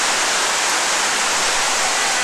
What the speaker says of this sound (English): you hear all that water?